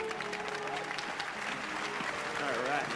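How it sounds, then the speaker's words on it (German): Audience applause at a magic show, a steady wash of clapping from a crowd lasting throughout, with a voice and some tonal music faintly underneath. "Einen herzlichen Applaus"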